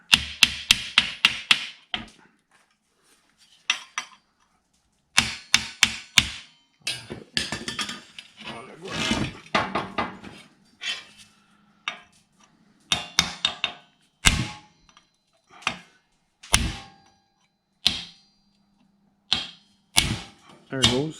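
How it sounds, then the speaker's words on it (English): Hammer striking leaf spring pads while extra leaf springs are fitted to a 1952 Studebaker 2R5 half-ton truck: sharp metallic blows, first in fast bursts and then as spaced single hits, close and loud, with brief talk between them. "probably just have to hammer"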